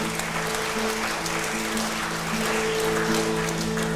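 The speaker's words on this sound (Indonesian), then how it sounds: "Berikan tepuk tangan bagi Tuhan Yesus" A church congregation at a Sunday service claps in loud, dense, continuous applause that fills the room evenly, with a low sustained tone humming underneath throughout.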